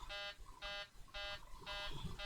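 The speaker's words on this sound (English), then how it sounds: "Why is it beeping like that?" Repeated warning beeps in a PMDG Boeing 737 cockpit on a flight simulator, five evenly spaced bursts of a steady buzzing tone, moderately loud, with faint background hum between them.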